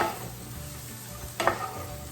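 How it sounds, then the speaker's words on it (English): Onion and garlic toasting with bread in a hot pan, a steady close sizzle broken by stirring scrapes and a brief louder clatter of utensil against pan. "we have those onion and garlic toasting up in there with that bread"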